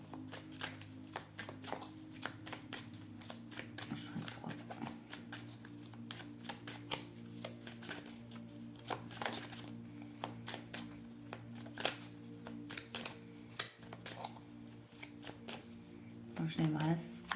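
Oracle cards are shuffled in bursts of crisp riffling and flicking clicks, close and fairly quiet, while a person talks over much of it.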